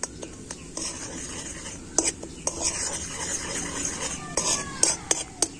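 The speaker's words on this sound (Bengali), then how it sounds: "আর এবার আমি এইভাবে নাড়াচাড়া করে নেব" Melting sugar being stirred in a kadai, with sharp clinks and scrapes of a metal spoon against the pan over a faint background, quiet and close.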